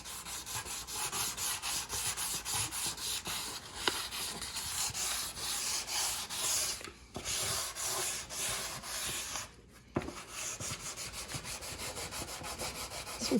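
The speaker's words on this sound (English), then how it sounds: "fast forward here through a couple minutes of sanding" Sandpaper works over the wood of an RC airplane kit in quick, continuous back-and-forth strokes, close and steady, pausing twice briefly.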